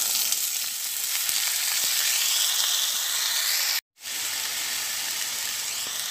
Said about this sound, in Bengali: তেলটা গরম হয়ে গেছে, এবার আমি কেটে রাখা আলুগুলো তেলের মধ্যে দিয়ে দেব।